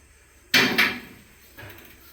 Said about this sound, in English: the freezer door will open the same